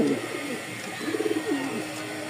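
Pigeons, a pair of large fancy breeding birds, coo steadily and close by in soft rolling phrases over a constant background hum, with no voices.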